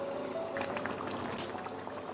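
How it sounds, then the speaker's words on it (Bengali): Fish head curry with potatoes and rice bubbles in a pan, a soft continuous simmering burble with faint liquid pops, quiet and close with no talking. "দেখুন আমাদের এটা ফুটে গেছে"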